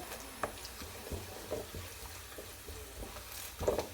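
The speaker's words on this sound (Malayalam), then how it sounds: "കറിവേപ്പില ഇട്ട് നല്ലവണ്ണം ഒന്ന് വഴറ്റുവാണ്" Curry leaves sautéing in a pan for green chilli pickle give a soft, steady sizzle with scattered crackles and a few louder pops near the end, close and alone.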